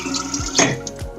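Water pours from a 2-cup measure into a jar while preparing water kefir, a steady close splashing stream with a couple of gurgling surges.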